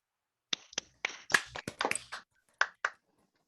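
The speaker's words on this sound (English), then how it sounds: "join me for a big round of applause for Sean Jordan, professor at Arizona State University" Over a Zoom call during a virtual conference keynote, a few unmuted participants clap, giving sparse, separate sharp claps in uneven bursts with silence between them.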